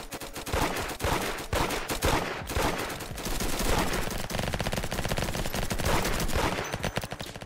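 Sustained rapid automatic gunfire from a weak gun in a flag wars video game, loud and continuous bursts with no talk.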